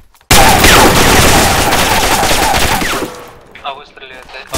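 Heavy gunfire in the military shooter ArmA 2 with the ACE mod: a loud, sustained burst of automatic fire and explosions that fades after about three seconds into scattered shots and brief chatter.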